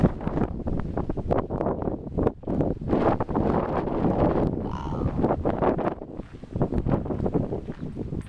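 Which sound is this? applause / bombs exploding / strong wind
strong wind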